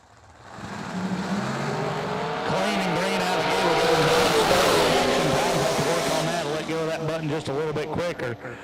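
Drag racing cars making a qualifying pass at London Dragway during a Quick Outlaw Series event, a loud sustained engine roar building and then fading with crackling, under an announcer's voice.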